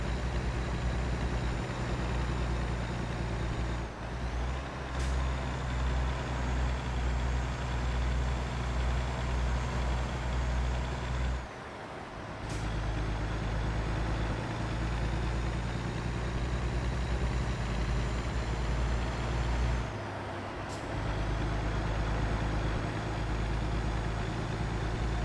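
A big rig in American Truck Simulator drives at highway speed with a steady, loud engine drone and road rumble, alone with no talk, broken by three brief dips where the engine note drops as if shifting gears or easing off.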